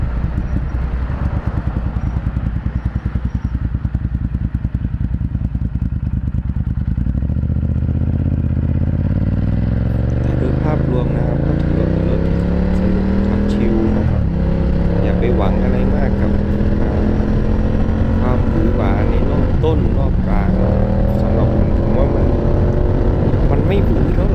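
A Ducati Diavel or Yamaha XSR900 motorcycle is ridden at a relaxed pace. Its engine drone climbs and drops through the gears under steady, heavy wind rush.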